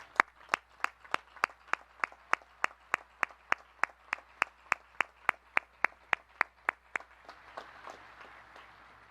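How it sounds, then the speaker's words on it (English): Crowd applause at a Naval Academy graduation ceremony: about two dozen loud, crisp, evenly spaced claps ring out in a steady rhythm, then dissolve into a softer scatter of clapping near the end. "Please join me in recognizing and applauding these distinguished graduates."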